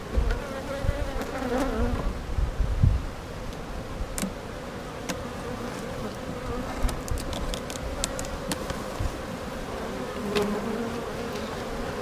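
Honey bees swarm around an opened hive during a box swap, a continuous close buzzing hum with individual bees droning past and scattered sharp clicks and knocks from handling the equipment.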